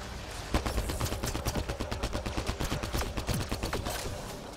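Steady automatic fire from the default rifle in Mass Effect: Andromeda, a fast even string of sharp shots with a rhythmic pulse, heard close and without talk for about four seconds.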